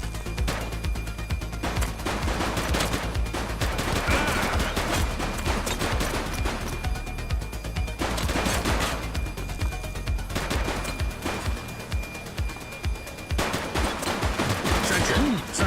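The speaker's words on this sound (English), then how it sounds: "He's shooting!" Rapid bursts of gunfire from Grand Theft Auto 2, dense automatic volleys repeating throughout with brief gaps, loud and close, with occasional voices over the shooting.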